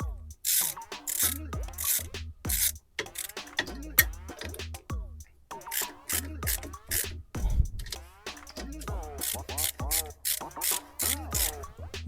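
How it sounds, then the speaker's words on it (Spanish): Ratchet wrench clicking in repeated bursts while tightening the cover bolts in a crisscross pattern on a Volkswagen Beetle (Vocho) rear brake drum, close and loud, with short pauses between strokes. "ya nada más sería cuestión de apretar los tornillos cruzados"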